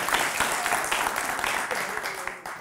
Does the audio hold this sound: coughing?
no